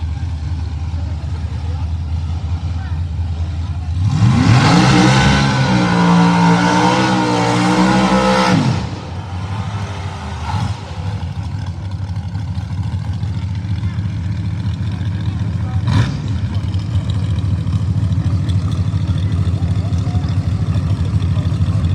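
Street drag race cars, a Chevy II and a Fox body Mustang, launching at a no-prep true street grudge race, roaring loudly for about four seconds before fading into crowd noise and talk.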